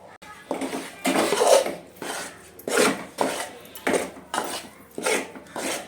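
Besan flour roasts in ghee in a pan while a spoon scrapes and stirs it, making a series of close, rhythmic scraping strokes about once a second, loud and dry over a quiet background.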